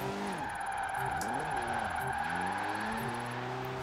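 An underpowered ND Miata slides through corners in a driving video game, its engine note rising and falling in wavering sweeps over a continuous tire hiss, loud and close with no talking.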